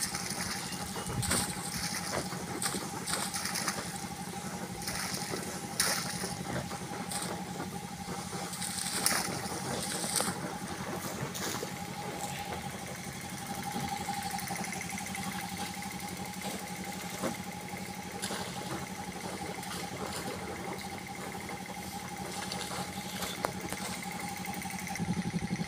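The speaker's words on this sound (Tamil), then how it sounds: "ரெண்டு போர் தண்ணி விழுகுது பாருங்கள்." Two borewell pumps at a farm property run steadily with a constant motor hum while water gushes into a tank in a continuous, even rush that lasts throughout.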